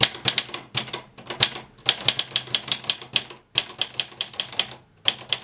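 Brisk typing on a HEMA 44K typewriter, a steady run of sharp, close key strikes in quick bursts with brief pauses between words, heard alone without talk.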